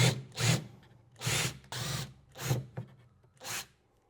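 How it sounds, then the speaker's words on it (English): A power drill backs out the hinge screws on a Bushman DC-L series upright fridge in five separate short whirring bursts, each under a second, with brief pauses between them, heard up close. "I'm going to use a power drill to unscrew those."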